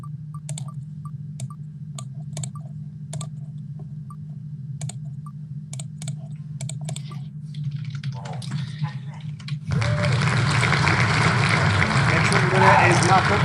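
A participant on a video conference types on a computer keyboard, a run of separate clicks with uneven gaps over a steady low hum, followed by a louder burst of broadband noise.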